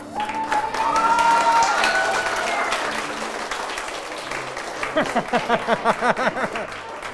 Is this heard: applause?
yes